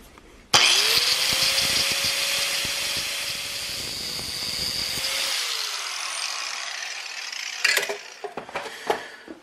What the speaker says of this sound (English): I'm using a 4-inch grinder, it's got a little wider blade